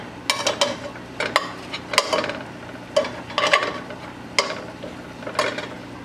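Pork chops browning in a pan with sauce, repeated sharp scraping and clinking strokes over a low steady sizzle, spaced at roughly even intervals close by.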